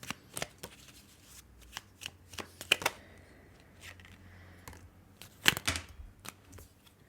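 Tarot cards are shuffled and drawn close by in a quiet room, giving bursts of quick riffling, sharp snaps and soft slides of card against card, scattered irregularly through the passage with no talking.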